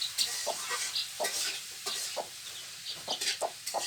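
Desi chickens clucking in a small backyard coop where a broody hen has been separated, with repeated short clucks and a few sharper calls spaced irregularly, fairly close and moderately loud, with no voices.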